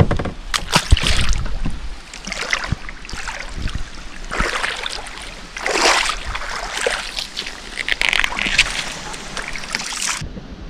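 A canoe paddled across Green Lake in the Boundary Waters: close, repeated paddle strokes with splashing and sloshing water in an irregular rhythm, and no talking.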